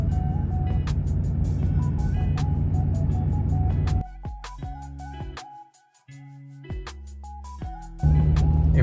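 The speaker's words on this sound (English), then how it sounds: "Gotta love this Miami traffic, this 5 o'clock rush hour traffic." Miami rush hour road traffic at 5 o'clock: steady low engine rumble from nearby vehicles that drops away midway, with musical chime-like tones, likely from a passing vehicle's speaker, and a return to louder engine noise at the end.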